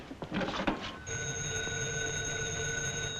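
A telephone in a 1943 comedy film rings with a sustained bright bell tone after a few seconds of brief bumps and clatter, continuing steadily and fairly loud.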